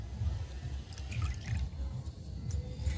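Water used to wash imitation jewellery chains is poured away, making a faint, uneven splashing and trickling sound with a low rumble underneath and no talk.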